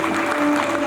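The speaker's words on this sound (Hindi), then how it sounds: "प्लीज जोरदार तालियां।" Dense, steady applause from a crowd at an award ceremony, clapping continuously with no pauses.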